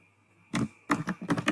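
Typing on a computer keyboard, a single close clack followed by a quick run of about six crisp keystrokes in uneven rhythm, with no voice.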